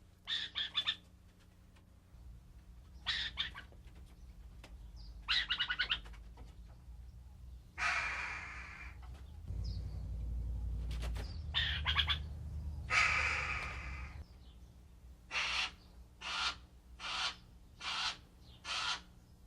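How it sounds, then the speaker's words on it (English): A series of harsh, raspy burrowing owl calls in Arizona, close by, in bursts: a few rough screeching segments, then five quick evenly spaced chirps at the end. "Burrowing owls can make a variety of noises depending on the situation."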